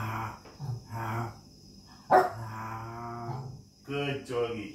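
A person imitates a dog, giving several separate woof-like barks and yelps with pauses between them, loud and close.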